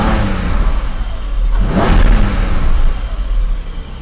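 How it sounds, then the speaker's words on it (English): A 2022 Porsche 718 GTS 4.0 with PDK is revved during its cold start. The engine holds a loud, steady note, swells into one rev around the middle, then settles back without pause. No one speaks. "If I give it a little bit of rev while it's still in cold start."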